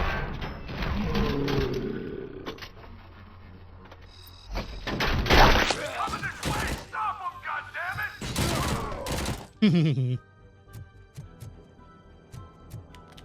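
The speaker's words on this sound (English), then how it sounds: "shoot with an SMG" Submachine gun bursts in the game Robocop: Rogue City, scattered loud volleys mixed with mechanical clanks and crashes, with a voice talking in between.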